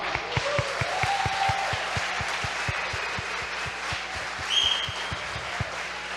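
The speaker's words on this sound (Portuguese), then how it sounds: "Vamos aplaudir o Senhor" A church congregation claps together in a steady, even rhythm, around two to three claps a second, a sustained wash of crowd sound beneath it and a few brief whistles or cheers rising above.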